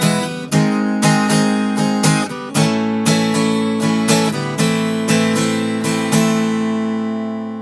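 Guitar strummed and picked through the chord progression of a song, loud and close, with bright repeated chord attacks in a steady rhythm and the final chord ringing out.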